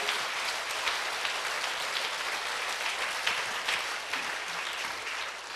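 A church congregation applauds during a sermon, a dense, sustained wash of many hands clapping at once, steady and fairly loud for several seconds with no voice on top.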